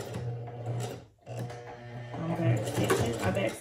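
A sewing machine stitches combs into a wig, running slowly in short uneven bursts with a brief pause partway through, while a person talks over the mechanical whirring.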